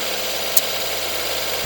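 Engine of a used car running steadily with a constant hum and vibration and one brief click partway through, close and without talk.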